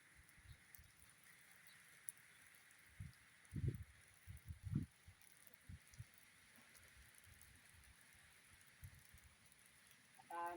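Steady, soft rain hisses in the background on a farm, with a few low knocks and rustles partway through and a brief sharper sound at the end.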